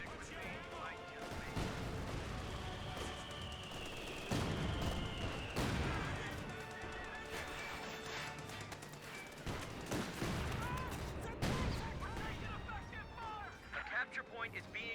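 Incendiary mortar fire and other explosive combat in Company of Heroes 2: repeated heavy booms and crashing impacts roll through a dense, continuous battle din, with a commentator talking over the whole stretch.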